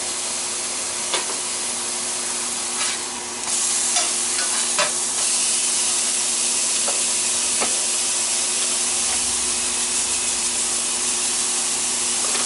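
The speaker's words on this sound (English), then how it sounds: "Put a little bit of bacon fat on there and we'll cook the eggs over here" Eggs frying in bacon fat in a pan, a steady loud sizzle and hiss running throughout, with a few light scrapes and clinks of a utensil.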